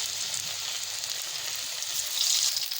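Cauliflower pieces fry in hot oil in a kadai, giving off a steady, close, hissing sizzle that swells a little toward the end, with no voices over it.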